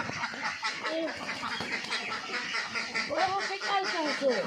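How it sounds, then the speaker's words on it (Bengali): Ducks, including two limping with injured feet, quack repeatedly at close range, a steady nasal chatter with bursts of overlapping calls under a noisy outdoor background on a farm. "মনিকা ওই যে দেখা যাচ্ছে দুইটা হাঁস খুঁড়ে খুঁড়ে হাঁটতেছে দেখো তো"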